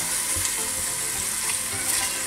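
Onion frying in a pan with a little added water, a steady close sizzle and crackle throughout with no talk.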